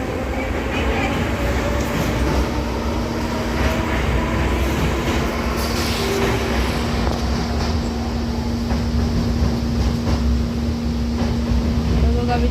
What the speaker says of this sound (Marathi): ही लोकल 1000 सिरीजची आहे.